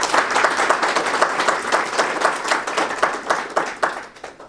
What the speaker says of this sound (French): j'aimerais vous dire d'applaudir très fort